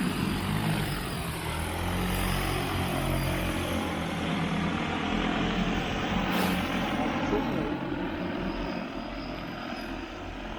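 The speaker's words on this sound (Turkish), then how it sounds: "Yarın drone ile devam edelim. Hava aracı kalkışa hazırlanıyor." An agricultural spraying drone prepares for takeoff in a field. Its rotors give a steady, dense whirring roar that holds at an even level throughout, fairly distant and without any talk.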